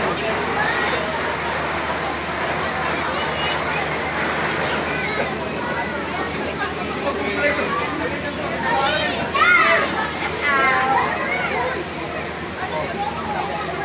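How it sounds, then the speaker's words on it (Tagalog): Heavy flowing water gives a steady roaring rush throughout, with people talking over it. "Dami tubig sa taas."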